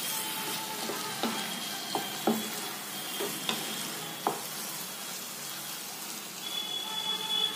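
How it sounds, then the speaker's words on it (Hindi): Green chilies and a piece of ginger cook in a pan with a continuous, moderately loud sizzle. Occasional soft stirring taps and scrapes punctuate the frying hiss. "दो मिर्च भी मैं डाल देती हूँ और ये अदरक का टुकड़ा। अब ये सबको भी मैं डाल के 2 मिनट पका लूंगी।"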